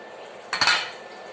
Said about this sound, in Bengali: এবার আমি ঢাকনাটা তুলে নিলাম